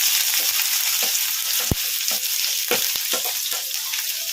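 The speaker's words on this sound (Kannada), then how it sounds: "ಸಾಸಿವೆ ಜೀರಿಗೆ ಚಟಪಟ ಅಂದಿದಾವಲ್ಲ, ಈಗ ಇದಕ್ಕೆ ನಾವು ಕಟ್ ಮಾಡಿ ಇಟ್ಕೊಂಡಿದ್ವಲ್ಲ ಉಳ್ಳಾಗಡ್ಡಿ, ಈಗ ಇವನ್ನು ಹಾಕೋಣ" Chopped onions drop into hot oil with crackling mustard seeds and cumin, giving a dense, steady sizzle broken by sharp pops and the scrape of stirring, close and loud without talk.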